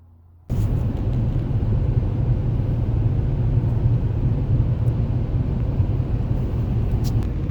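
Car driving on the road, heard from inside the vehicle: a steady, loud low rumble of engine and road noise that starts abruptly and continues evenly throughout.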